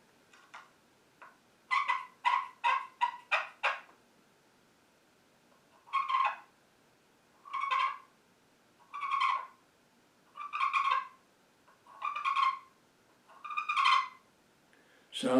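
Hand-made slate turkey call, its surface cut from an old Civil War fort roof, scratched in short yelping bursts: a quick run of rapid clucks, then evenly spaced single yelps, near and moderately loud, no talking over it.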